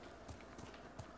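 A horse gallops in the samurai video game Ghost of Tsushima, its hoofbeats a quick, faint, muffled clip-clop running steadily under a low game soundscape.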